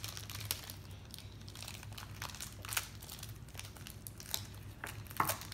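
Plastic packaging of a Grossery Gang Bug Strike Series 4 toy being torn open by hand, with steady close crinkling and crumpling and a few sharper rips over several seconds, no talking.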